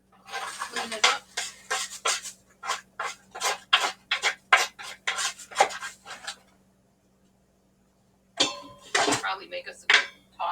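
A cooking pan with leftover sauce being scraped clean, heard as a fast run of sharp, rhythmic scraping strokes up close, a pause of near silence, then another short burst of scraping.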